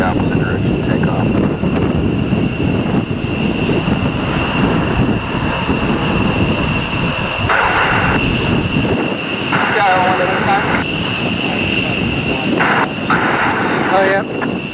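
Four F-15 fighter jets from Lakenheath departing RAF Mildenhall make a loud, continuous roar of jet engines close by, with voices talking partway under it.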